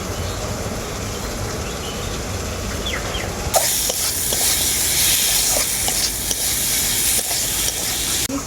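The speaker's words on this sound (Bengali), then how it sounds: "মশলা দেওয়ার পর অল্প একটু নাড়াচাড়া করে নিয়েছি" Home-made mixed masala sizzles and hisses as it fries in a pan for khichuri, stirred steadily, with a louder burst of frying and scraping partway through; no one speaks.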